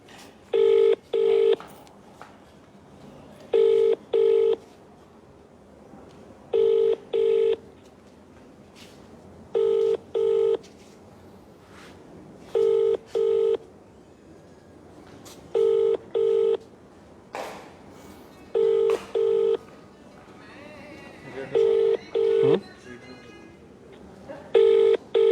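A telephone call to a police superintendent in Yamunanagar rings out as a series of regularly spaced ringing tone bursts, clear and up front, repeating about every few seconds over a quiet background.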